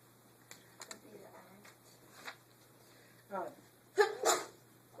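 A sneeze bursts out near the end after some quiet shuffling and small noises, fairly close and sharp.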